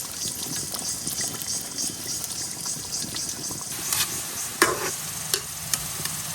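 Laccha semai noodles frying in ghee, with a steady broadband sizzle and occasional stirring scrapes and clinks throughout, a few sharper utensil knocks near the end.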